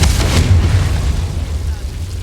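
Confringo fire spell blasts in the Hogwarts Legacy video game, a loud booming explosion with a deep rumbling low end that fades over about two seconds.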